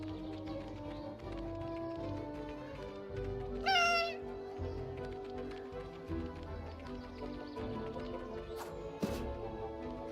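A cat gives a single short, clear meow in the game Memories Retold, heard briefly over soft ambient game music and faint footstep taps.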